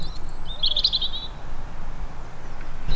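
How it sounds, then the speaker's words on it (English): Small birds chirp and sing outdoors at a woodland car park near Horrabridge on Dartmoor, with a bright twittering burst in the first second over a steady low background rumble. "you can hear the birds singing"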